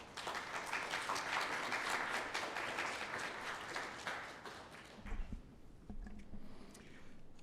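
An audience in a lecture hall welcoming a speaker at a fellowship capstone event with steady, close applause that fades out after about five seconds, followed by a few scattered claps and a quiet room.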